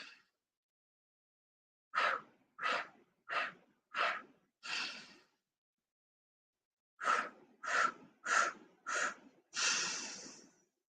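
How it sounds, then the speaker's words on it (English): Breathwork exercise: two rounds of four short, sharp inhalations through an O-shaped mouth, each round ending in one longer, forceful nasal exhale, close and loud against silence. "the breath that we're going to be doing while holding this mudra is a 4-part inhalation through an O-shaped mouth"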